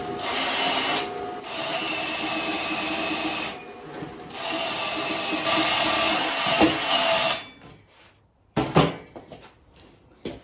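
Arc welding on a vehicle's link bar welds, a steady harsh crackling buzz that runs in long near bursts with short pauses, then stops for scattered clanks and knocks.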